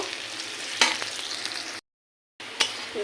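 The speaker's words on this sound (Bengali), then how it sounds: "পেস্টটা আমি ভালো করে ভেজে নিচ্ছি ব্রাউন কালার করে" Spice paste fries in a pan for a Bengali home-cooked dish, giving a steady sizzling hiss with a couple of sharp stirring scrapes, a brief silent gap, then more sizzle.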